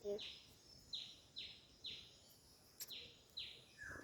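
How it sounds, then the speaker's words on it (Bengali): A bird, likely a drongo, calls outdoors in a rural village setting: a series of about seven short, sharp descending chirps at an even rhythm, clear against a quiet background. "পাখি ডাকছে।"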